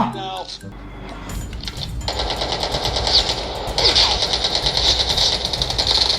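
Rapid automatic gunfire rattles in a mobile shooter game played on a Xiaomi 11T Pro, the bursts coming in fast, dense strings over game effects while someone talks.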